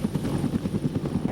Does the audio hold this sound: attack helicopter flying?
yes